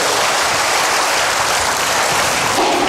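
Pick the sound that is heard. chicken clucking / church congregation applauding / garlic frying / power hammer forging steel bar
church congregation applauding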